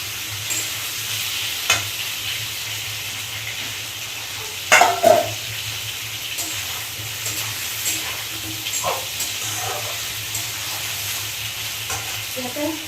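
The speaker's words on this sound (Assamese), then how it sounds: "মাংসখিনি ফুটিব ধৰিছে" Pork pieces sizzle and bubble steadily in a hot pan while being dry-fried, with occasional stirring clatters and a soft continuous frying hiss throughout; no talking.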